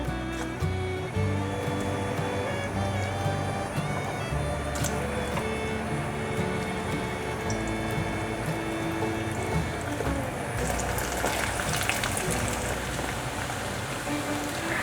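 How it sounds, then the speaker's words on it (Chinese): Vegan celery balls deep-fry in a pot of hot oil, giving a dense, steady crackling sizzle that runs throughout with a few sharper pops, close and moderately loud, with no talking. "把丸子再塑形一下，放入锅内炸"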